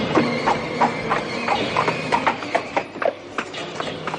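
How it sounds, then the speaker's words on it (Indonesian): Hooves of a horse-drawn carriage clip-clop steadily as it arrives and draws up in front of a house, a regular rhythm of sharp hoof strikes, moderately close and clear, with no talk over them. "Kereta kudanya dihentikan di depan rumah ini."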